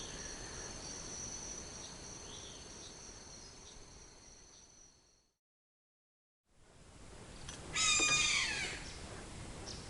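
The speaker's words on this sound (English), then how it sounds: "That throbbing sound you can hear in the background is a wasp nest, a massive great nest about 4 foot long" Constant low buzzing from a huge wasp nest about four feet long hanging from a tree, a dense steady drone heard in the background alongside shrill insect calls. The sound drops out briefly midway and resumes.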